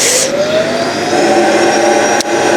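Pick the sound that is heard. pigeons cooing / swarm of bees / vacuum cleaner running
vacuum cleaner running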